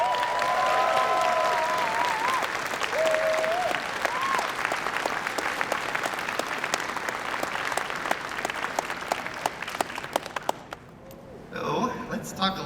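A large convention crowd at closing ceremonies applauds its volunteers, dense sustained clapping filling a hall, with voices and cheers mixed in at first, fading toward the end as someone starts speaking.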